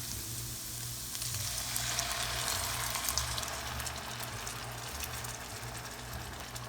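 Red chile sauce poured into a pan of cooking pork carnitas, hissing in a steady, dense sizzle up close with bubbling liquid underneath and no voices.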